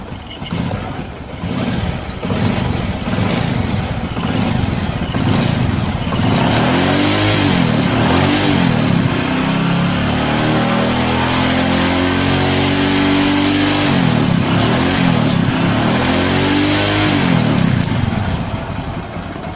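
A Honda Megapro, Tiger or Karisma motorcycle engine with a newly repaired cam chain tensioner and audible piston slap is revved repeatedly up close. Loud throttle blips rise and fall over a rough running idle, with no voices.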